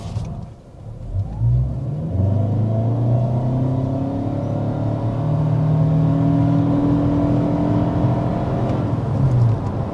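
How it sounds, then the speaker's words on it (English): A 2026 Toyota Camry XSE engine revs hard under heavy acceleration to 60 mph, climbing in pitch through gear changes with a loud, steady roar that swells toward the end. "we need to go ahead and start with that hard acceleration"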